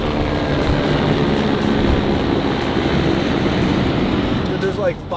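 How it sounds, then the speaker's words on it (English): A steady, broad rumble of about five helicopters' rotors fills the air, continuous and fairly loud, with a brief high chirp near the end. "And now helicopters."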